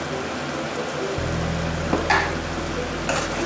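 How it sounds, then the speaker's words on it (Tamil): Chicken gravy bubbles and sizzles in a pan as it is stirred, with a steady frying hiss and a low boiling rumble joined by a few brief scraping stirs. "நல்லா கிளறிட்டு ஒரு 10 மினிட்ஸ் வந்து கொதிக்க வைக்கணும்."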